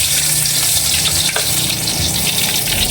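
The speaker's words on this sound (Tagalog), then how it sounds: "inuuna natin pag prito yung bawang" Garlic fries in a hot pan with a loud, continuous sizzle and crackle, stirred now and then, close up and alone without talk.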